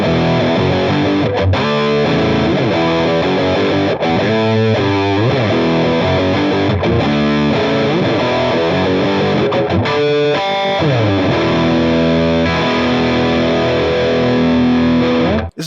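An electric guitar plays heavily distorted chords and riffs through a Black Op distortion pedal on a Headrush MX5 modeler, loud and saturated throughout with no talking, ending abruptly.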